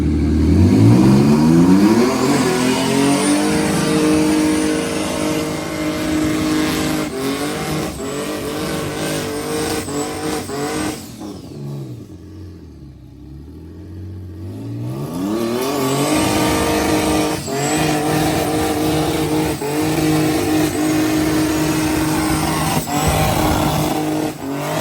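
Tuned car at a Christmas party revving hard for burnouts, a loud sustained engine roar with rising and falling pitch, dipping to a lower idle midway before climbing back to full-throttle howling.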